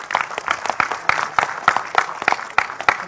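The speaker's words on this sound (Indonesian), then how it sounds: "Tepuk tangan yang meriah untuk beliau." An audience claps at a village gathering, a modest round of applause with distinct, uneven hand claps close by, fairly sparse rather than a roaring ovation.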